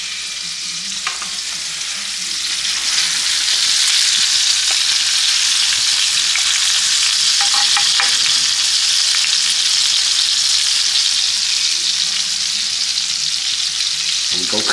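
A New York strip steak sears in a hot pan with a loud, continuous hissing sizzle. It swells after the first couple of seconds and then holds steady and close, with a few faint pops and no talk.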